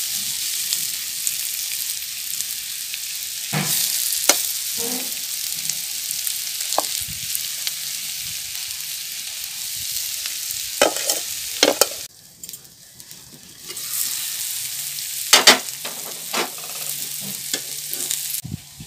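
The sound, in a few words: taro flower stalks frying with chili powder in pan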